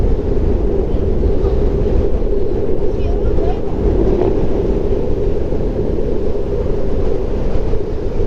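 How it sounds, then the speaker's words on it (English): Strong wind buffets the microphone while riding an Ownboard electric skateboard downhill, a loud, steady low roar that fills the whole stretch with gusty rumble throughout. "The wind is so strong."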